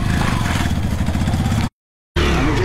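A motorcycle engine runs steadily on a narrow mountain road congested with trucks in Karnali, close and fairly loud with rattling clatter, cutting out briefly for a moment of silence before resuming.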